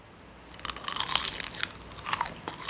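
Crisp, crackly crunching of thin roasted seaweed being bitten and chewed up close, a rapid series of dry snaps over about two seconds.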